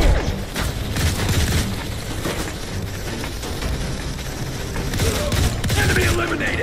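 Rapid bursts of gunfire crackle almost continuously in the shooter video game Modern Combat 4: Zero Hour, dense and close, with a few heavier booms mixed into the firefight.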